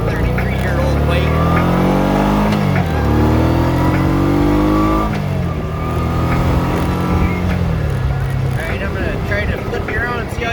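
A 1990 Honda PC800 motorcycle engine runs loud and steady while riding, its drone rising and falling with changes in throttle over the whole stretch, with some voice audible beneath it.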